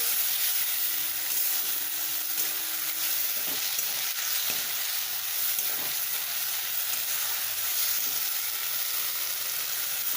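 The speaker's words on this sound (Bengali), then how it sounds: "এটা পেঁয়াজ ভাজাটার মধ্যে গ্রেভিটা এবার দিয়ে দেওয়া হচ্ছে" Gravy poured over fried onions in a pan for chilli fish, giving a loud, even, close-up sizzle and hiss that holds steady for several seconds, with faint clinks of stirring and no speech.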